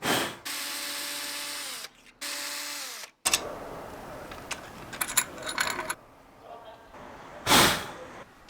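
Power drill whirring in short bursts while wheel well boxes are built inside a camper van conversion, followed by clattering and rattling of tools and hardware, close and loud, with people talking.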